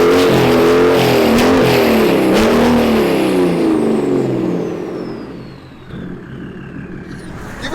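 Heavily customized mail truck engine accelerating hard in second gear, a loud rising roar that fades away as the truck pulls off, leaving quieter road noise behind.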